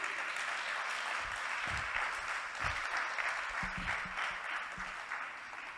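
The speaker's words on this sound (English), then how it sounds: "I want you all to give all of these women a round of applause so they feel validated" An audience at a mature women's beauty pageant at a creative arts centre applauds the contestants, a steady, moderately distant wash of clapping holding for several seconds with no voices on top.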